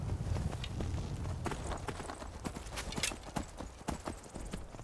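Horse hooves clip-clopping in Skyrim VR, a quick run of close, sharp hoof strikes with a rough galloping rhythm over a dense, noisy game backdrop.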